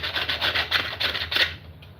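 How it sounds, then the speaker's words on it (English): Heavy-grit sandpaper rubbing across wood in quick, even back-and-forth strokes, close and fairly loud, about six passes before it stops. "It's like our heavy grits, you know, are good for removing material fast"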